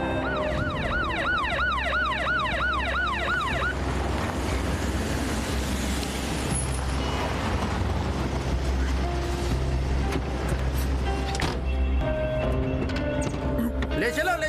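An ambulance siren wails in a fast rising and falling pattern for several seconds, loud and close, then fades under background noise and voices in a dubbed drama scene.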